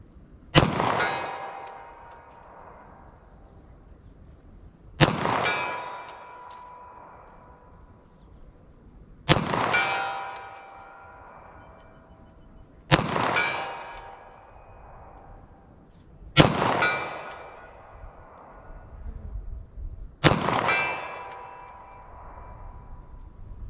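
Six 9mm +P 147 grain Underwood Nosler jacketed hollow point rounds are fired at a steel target 75 yards away, each a sharp, loud report spaced about four seconds apart, with faint ringing decay after each shot.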